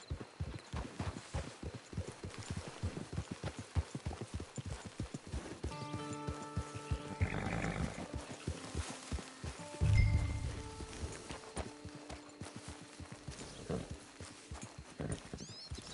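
Rhythmic clip-clop of horse hooves walking at a steady pace in Red Dead Online, with a horse snorting and whinnying briefly partway through, synthetic game-like character.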